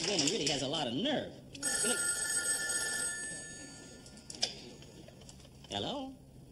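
A telephone rings in a comedy sketch, with bursts of bright ringing separated by gaps, mixed with people talking and some clattering.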